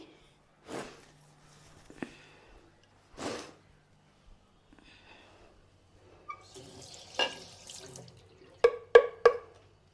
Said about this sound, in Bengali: শঙ্করটা ধুয়ে রাখি